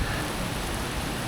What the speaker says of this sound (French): Bon, il pleut un peu quand même.